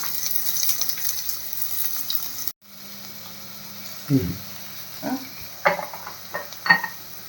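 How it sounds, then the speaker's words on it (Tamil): Hot oil hisses steadily, then after a brief cut, scattered sharp pops and crackles of mustard seeds spluttering erupt close by at irregular intervals, while cooking a South Indian squid stir-fry. "கடுகு பொரியட்டும்"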